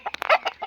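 Desi country chickens in a poultry cage give a few quick, close clucks in a short burst.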